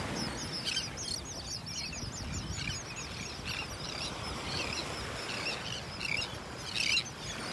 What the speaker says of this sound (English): Listen to all those birds chirping.